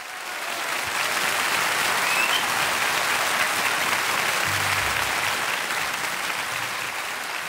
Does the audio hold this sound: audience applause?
yes